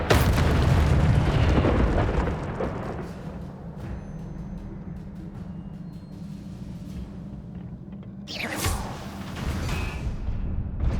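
Incendio fire spell cast in the video game Hogwarts Legacy: a loud, roaring burst of flame that rumbles on steadily, then a second whooshing flare near the end.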